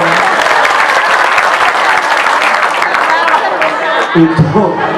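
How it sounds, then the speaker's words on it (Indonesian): A crowd claps and applauds loudly and steadily for several seconds, with faint chatter mixed in as it tapers off. "Tepuk tangan buat Banser."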